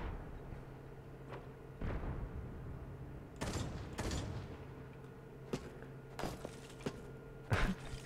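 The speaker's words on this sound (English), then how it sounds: "Explosions in the distance" Distant explosions in a video game, several muffled booms and sharp bursts spaced irregularly across the span, faint against a low steady background hum.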